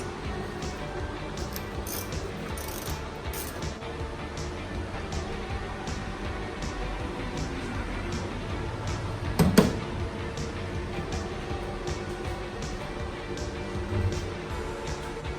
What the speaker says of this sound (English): So I'm going to remove my rotor discs because I don't want them to bend as I get to my destination.